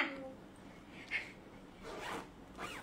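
A side zipper on a newly arrived garment gives a few short, faint rasping pulls, spaced out over a couple of seconds in a quiet room.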